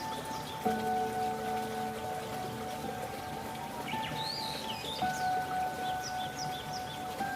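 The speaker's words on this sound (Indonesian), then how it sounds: "Air terjun Tancak merupakan air terjun yang memiliki aliran deras dengan ketinggian 82 meter" The Tancak waterfall, 82 m high with a strong flow, gives a steady, even rushing wash throughout, with sustained musical tones layered over it and faint bird chirps near the end.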